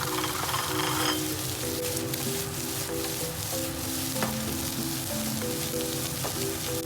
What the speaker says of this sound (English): Stir-fry until the rice can jump around the pan